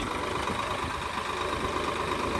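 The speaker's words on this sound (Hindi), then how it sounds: "आ ट्रैक्टर चलावांगे इहदे बराबर" New Holland 3630 tractor engine running steadily at a constant idle, a dense continuous drone that holds level throughout with no talk over it.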